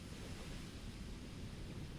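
Broad, steady ocean surf washing continuously in a video game's seaside setting with a gondola, a dense roaring wash of waves heard alone without talk.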